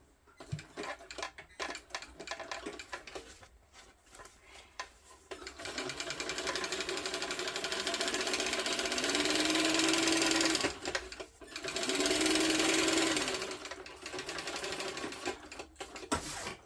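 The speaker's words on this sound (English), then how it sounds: "So I'm going to top stitch." A sewing machine topstitches a tote bag, running in several bursts of rapid, even needle chatter with brief pauses between them, close and loud with no talking.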